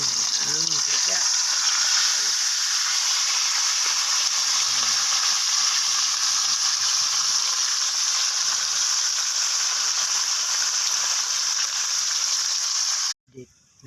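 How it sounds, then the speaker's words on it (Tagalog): Ingredients and tilapia frying in hot oil in a pan for ginataang tilapia: a loud, close, continuous hiss and crackle that holds steady throughout, then cuts off abruptly near the end with a brief clatter. "Piprituhin muna natin."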